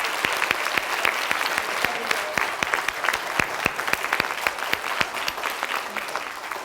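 Students applauding in a school gathering at River Terrace, a roomful of clapping with sharp individual claps standing out close by over a steady crowd wash.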